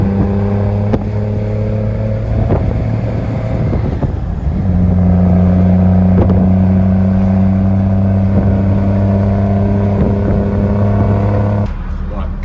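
BMW engine conversion in a Land Rover Defender, revved repeatedly in sharp bursts over a steady loud idle, close up, with brief clattering between the blips.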